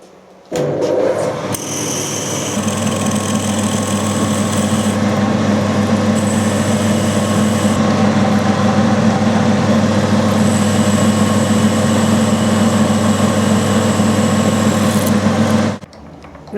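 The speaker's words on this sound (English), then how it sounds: "we've got a nice new 5mm drill." A new 5mm drill bit runs steadily in a workshop drill, preparing a hole for an M6 tap, giving a continuous motor whine with a low hum that holds for about fourteen seconds, then stops.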